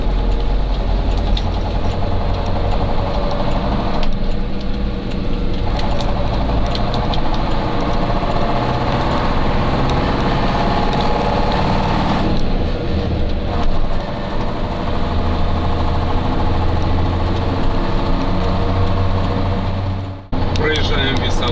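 A retro vehicle's engine drones steadily and loudly while driving on the road, a continuous rumbling hum that drops out briefly near the end.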